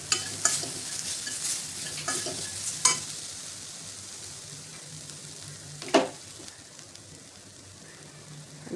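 Thecha chili paste sautés with spices in a pan, giving a continuous low sizzle broken by a few sharp scrapes and clinks of a spoon against the metal, with no voices.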